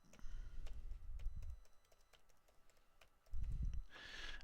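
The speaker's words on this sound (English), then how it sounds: "So I'm going to type in my password" A password is typed on a computer keyboard, with faint, quick keystrokes clicking close by in a short burst over low background rumble, with no talking.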